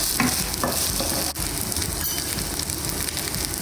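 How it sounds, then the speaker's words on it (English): Ginger garlic paste frying hard in a pan for piri piri basmati rice, a loud, dense and continuous sizzle close up, with a brief stirring scrape partway through and no voices. "ready for the next item to go in, which is the ginger garlic paste."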